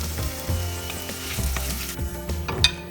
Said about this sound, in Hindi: स्लाइटली गोल्डन ब्राउन होने तक हमें आलू फ्राई करना है।